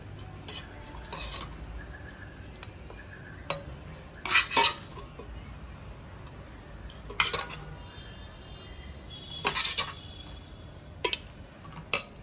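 Mutton pieces go into the spiced liquid in a pot for Kolkata-style biryani, with sharp clinks and scrapes of a spoon against the metal and faint stirring sounds between quiet pauses.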